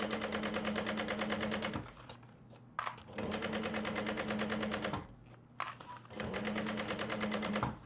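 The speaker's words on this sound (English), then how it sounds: "that is the first basting stitch" Sewing machine running a basting stitch along a fabric pouch, rapid rhythmic needle clatter in three long runs separated by short pauses, close and alone.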